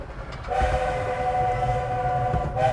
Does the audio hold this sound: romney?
yes